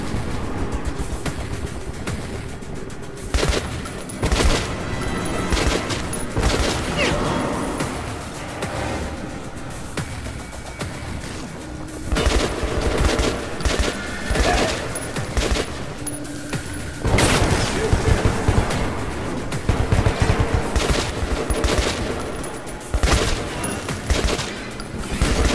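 Gunfire in the video game Metro 2033 Redux comes in repeated loud bursts of automatic fire and single shots, with rattling volleys broken by brief quieter gaps over roughly twenty-five seconds.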